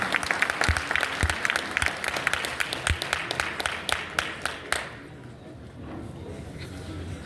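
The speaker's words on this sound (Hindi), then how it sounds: "एक बार और जोरदार तालियां बजाना।" An audience claps loudly after a young girl's poem recital at a literary festival in Bokaro, distinct individual claps forming dense applause that stops abruptly near the end, leaving quiet room noise.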